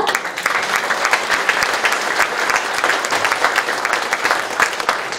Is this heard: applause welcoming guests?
yes